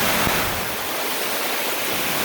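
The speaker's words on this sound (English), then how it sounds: "I've got all this water flow down this hillside" Rainwater rushing down a hillside and pooling against a patio wall beside a house, a steady loud broadband hiss and gush of flowing water, constant and close with no voices.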